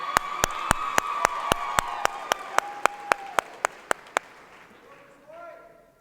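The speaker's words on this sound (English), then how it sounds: "let's give our future ag teachers a huge round of applause" At a 2016 state convention session, an audience claps for future agriculture teachers in a crisp, steady rhythm of about sixteen evenly spaced claps. The claps fade out, and a voice follows at the end.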